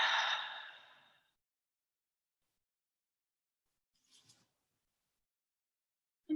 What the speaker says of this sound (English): Exhale again.